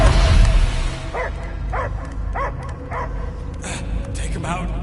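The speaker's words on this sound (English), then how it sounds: "I hear only barking." A dog barks in the PS5 game Guardians of the Galaxy, a string of evenly spaced, fairly loud barks and yips over a murky game-ambience bed.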